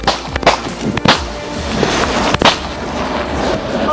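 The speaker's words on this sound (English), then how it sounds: "Gunfire erupts in the darkness." Gunshots crack out in the dark during a police shootout with a suspect, several sharp, loud bangs, some in quick succession, over rough, noisy background commotion.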